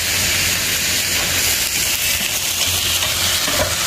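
Eggplant stir-fries in a pan while cooking for central Vietnamese tuna noodle soup, giving a loud, continuous sizzle and hiss with faint stirring scrapes and no talking.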